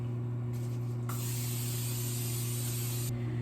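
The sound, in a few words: cooking spray sprayed into a heating skillet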